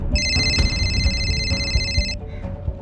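A telephone rings with a bright electronic warble, one sustained ring of about two seconds, loud and close, over a low background hum.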